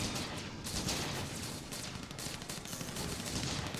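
Dense, sustained barrage of artillery and gunfire in the Strike Down strategy game, a continuous rumbling roar of overlapping blasts with no gaps, loud and steady throughout.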